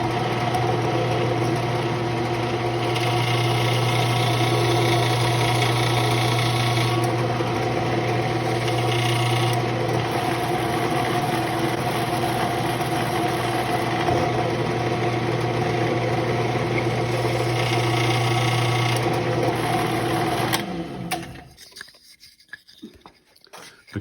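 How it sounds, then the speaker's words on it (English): An electric drill bores a hole in a wooden heirloom rattle to hold BBs, giving a steady, loud motor whine that runs continuously for about twenty seconds before cutting off into quiet. "I'll drill a hole that'll hold the BBs"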